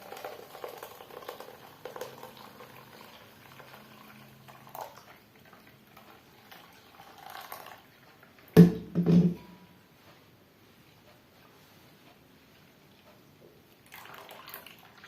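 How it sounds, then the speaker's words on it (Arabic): Blended lemon juice with water is poured and strained through a kitchen sieve, giving a faint trickle and patter with a brief louder splash in the middle, otherwise quiet. "غتصفيوه بشي صفايه كما كتشوفوا معايا باش يبقى لنا غير الماء"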